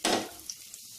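Oven-baked potato wedges dropped into hot oil, giving a brief sharp burst of sizzling that quickly fades to a quieter crackle within a second.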